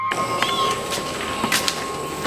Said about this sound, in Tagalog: sumusunod talaga sa amin yung pusa oh